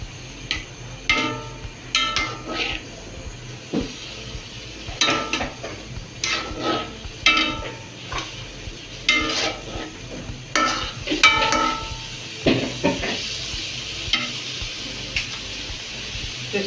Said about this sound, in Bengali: এবার তেলে দারচিনি গুলো দিয়ে দিচ্ছি